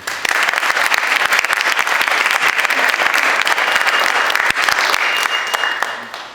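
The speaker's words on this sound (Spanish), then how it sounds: "Obredo, rectora del Centro Universitario, para quien también pido un aplauso." A university audience applauds steadily, a dense, loud wash of many clapping hands that holds for several seconds without pause, with a faint voice near the end.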